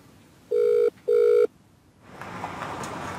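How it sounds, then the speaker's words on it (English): A telephone line rings during a call with two loud, evenly spaced electronic ring tones close together. A soft hiss of open line noise follows. "would you like me to make a phone call to Ryan?"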